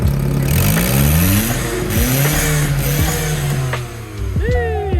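A Toyota turbo engine revs loudly and close by, its pitch climbing and falling in repeated sweeps over a steady rumble, with a brief higher whine near the end.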